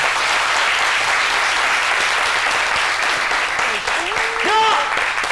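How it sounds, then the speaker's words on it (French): A TV studio audience on a French-language midday show gives loud, continuous applause as guests leave the set. Near the end a voice speaks over the clapping. "On peut les applaudir, ils s'en vont maintenant."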